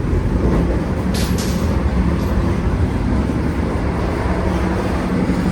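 A Vande Bharat train travelling from Varanasi to Patna gives a continuous low rumble and rushing noise from inside the moving carriage, steady and close throughout.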